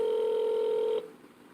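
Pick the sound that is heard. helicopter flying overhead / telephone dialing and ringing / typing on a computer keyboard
telephone dialing and ringing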